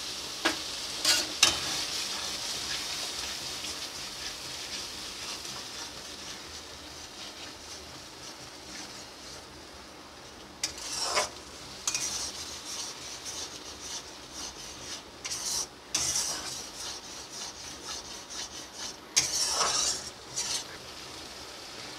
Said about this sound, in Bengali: এই মশলাটা দিয়ে কিছুক্ষণ কষিয়ে নেব।